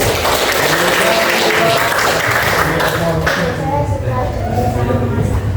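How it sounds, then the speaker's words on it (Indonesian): A group bursts into applause during a classroom introduction session, with a continuous clatter of many hands clapping close by and voices mixed in throughout. "Oke, aplaus."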